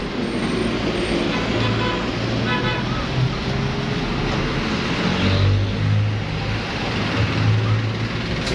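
Dense road traffic on Puti Road in the Philippines, with jeepneys rumbling close by and several short horn toots rising over a steady engine drone, while people talk along the street.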